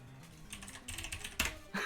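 Keys clatter on a computer keyboard in a few quick bursts of typing, close and fairly quiet, with short pauses between clusters.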